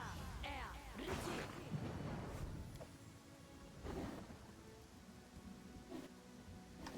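Rain and thunder in the Pathfinder: Kingmaker video game, with a faint continuous rain hiss broken by several low rumbling thunder bursts and occasional voices in the background.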